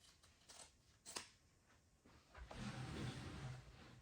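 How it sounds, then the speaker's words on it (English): Scissors snip upholstery fabric for a cushion. A couple of quiet, sharp cuts come early, followed by a louder stretch of rustling, shifting cloth, all faint and close with no talking. "I'm going to preemptively cut enough fabric past that I can stretch."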